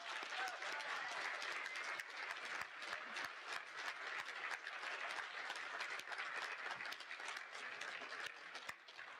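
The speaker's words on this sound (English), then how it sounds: "Let's give the students a round of applause." Sustained applause from a crowd at a high school equivalency graduation ceremony for the graduating students, dense, even clapping continuing at a steady level throughout.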